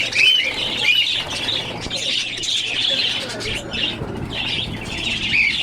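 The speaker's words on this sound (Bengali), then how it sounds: "এখানে কোকাটেল পাখি আছে, লাভবার্ড, তারপরে টিয়া পাখি, ম্যাগনেট টিয়া পাখি।" Cockatiels, lovebirds and parrots in a wholesale bird shop set up a dense, continuous chorus of shrill squawks and chirps, with wings flapping now and then, loud and close throughout.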